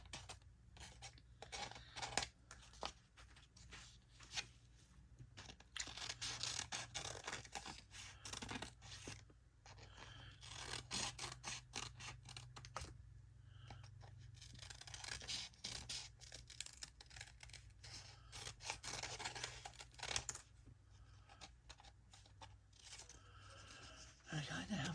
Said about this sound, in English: I'll cut off some of the excess.